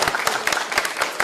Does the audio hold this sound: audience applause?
yes